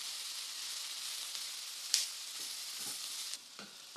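Chicken frying in a pan with pepper, a steady bright sizzle that holds evenly throughout, close but fairly quiet, with a few faint soft stirring taps near the end and no voices.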